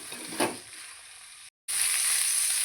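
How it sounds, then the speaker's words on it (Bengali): Drumstick vegetable and potatoes fry in oil in a pan, giving a steady close hiss and sizzle with a brief stir, a momentary cut-out, then the sizzle returning louder. "এবার সজনে ডাঁটা আর আলুকে একটু হালকা করে ভেজে নেব"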